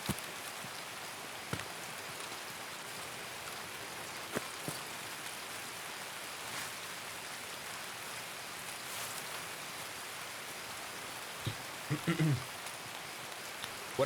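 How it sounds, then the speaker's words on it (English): Heavy rain pours in the video game Escape From Tarkov, a steady, dense hiss of falling water with a few faint taps and clicks, continuous and fairly quiet overall. "That's raining really hard, which means it's very loud."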